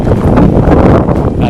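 Strong wind buffets an outdoor microphone in Taiwan during an e-bike cleaning and setup, a loud continuous rumbling roar for a brief moment.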